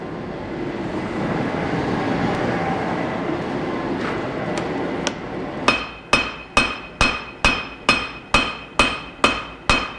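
A heavy cross peen hammer strikes wootz steel on an anvil while forging an integral chef's knife, ringing blows falling in a steady, evenly spaced series of about ten, loud and close after a noisy forge roar.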